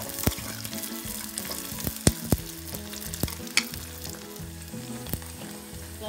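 Hot oil sizzles and crackles steadily as curry leaves fry for a Sri Lankan chicken curry, with sharp pops and occasional clatter from stirring close by.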